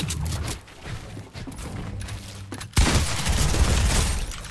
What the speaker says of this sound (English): We're getting shot at from this hill.